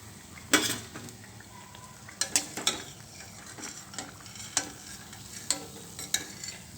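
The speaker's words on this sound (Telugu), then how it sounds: "మొత్తం బ్రెడ్నంతా ఇలాగే వేయించుకోవాలండి వేయించుకొని ప్లేట్లోకి తీసుకోవాలి" Bread slices frying in a pan for double ka meetha, a soft sizzle broken by clusters of scraping and clinking as the slices are turned and lifted out.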